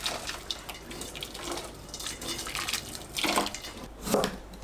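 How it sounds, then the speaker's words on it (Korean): Hot water poured over cucumbers, then the cucumbers rinsed in cold water, heard as a run of close splashes and drips that come in uneven bursts, fairly quiet, with no talk. "뜨거운 물을 골고루 붓고 찬물에 헹궈서 사용하세요."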